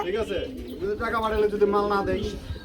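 Pigeons at a pigeon seller's premises give a rolling, throaty coo that lasts about two seconds, close and clear with a soft background murmur.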